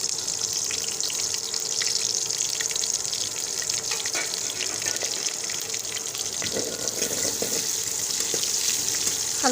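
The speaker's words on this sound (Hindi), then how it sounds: "यहाँ पे घी गर्म होने के लिए रख दिया है। अब मैं इसमें प्याज डाल दूँगी।" Chopped onions sizzle and crackle in hot ghee in a cooking pot, a dense, steady hiss with scattered pops and occasional stirring clinks, close by and continuous throughout, with no talking.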